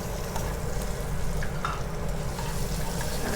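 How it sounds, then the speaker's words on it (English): Garlic fries in a hot pan in a restaurant kitchen, giving a steady, close crackling sizzle with a few faint clinks. "starting with the garlic now"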